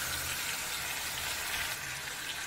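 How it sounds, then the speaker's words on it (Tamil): Chopped tomatoes and green chilli with softened onions sauté in a pan for a radish gravy, giving a steady, soft sizzle with faint stirring, no voices. "தக்காளியை நல்லா குழைய வதக்கிக்கோங்க"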